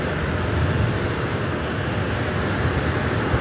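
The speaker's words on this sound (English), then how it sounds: "382 taking off to Houston Intercontinental on the MAX 8" A Boeing 737 MAX 8 takes off from LAX bound for Houston Intercontinental, its engines a steady, broad jet roar held at an even level for the whole stretch, with no talk over it.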